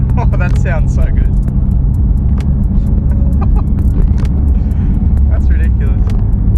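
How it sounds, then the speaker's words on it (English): Toyota GR Yaris with an ECUtek tune and dump pipe, its engine and exhaust rumbling loudly and steadily throughout, with sharp crackling pops breaking through while people talk over it. "the whole exhaust, it does pop a lot more as well. The pops are a lot louder."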